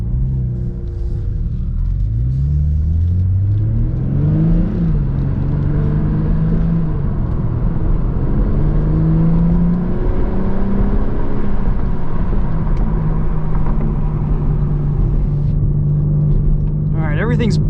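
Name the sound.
2021 BMW M3 Competition driving on track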